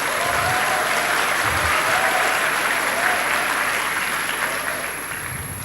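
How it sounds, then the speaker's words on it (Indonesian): Applause for the graduates fills a university graduation ceremony, a dense sustained clapping from a large crowd that holds steady and then softens slightly toward the end. "tepuk tangan untuk para wisudawan dan wisudawati"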